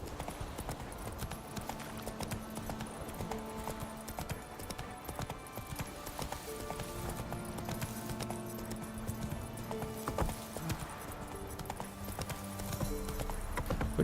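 Hooves of the horse Roach clip-clopping steadily in The Witcher 3, a continuous rhythmic trot under game music and ambience, with the odd whinny.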